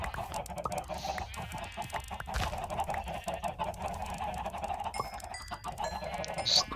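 Many chickens clucking in Minecraft, a busy overlapping chorus of short clucks and pecking clicks from a large flock, fairly close and continuous, with no talking.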